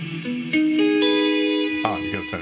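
A big reverb from a Safari Pedals plugin with a short pre-delay, applied to a sustained, distorted tonal line whose notes step upward and ring on, ending in a few brighter struck attacks that decay into the wash.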